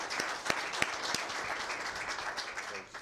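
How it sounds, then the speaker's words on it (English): Audience applause at a Linn-Mar school board meeting, honoring the board members and teachers: a dense, steady patter of many hands with a few sharper claps standing out, fading slightly at the very end. "So if you join me kind of in a round of applause in recognizing our board members and our teachers."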